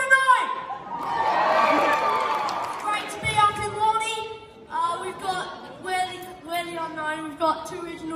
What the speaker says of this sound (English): give a massive round of applause for your first act,